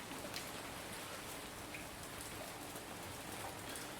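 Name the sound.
rain pattering on window in VR game Dagon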